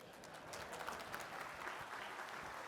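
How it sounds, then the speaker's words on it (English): A conference keynote audience claps in a steady, crowded patter. The applause sounds faint and somewhat distant, with no voice over it. "somebody clap"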